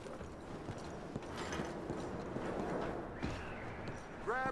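Pack horses in Red Dead Redemption 2 clip-clop steadily at a walking pace, with faint creaks and a brief short whinny near the end.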